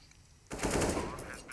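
A sudden burst of rapid automatic gunfire in CS:GO crackles out of a quiet start and holds for about a second, loud and close, alongside faint commentary talk.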